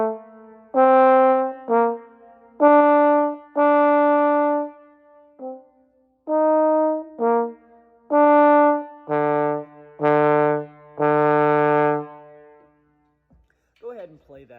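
A trombone plays isolated beats 1 and 4 of an all-state technical étude, sounding clear detached notes in pairs with short gaps between them, close and alone, with no accompaniment.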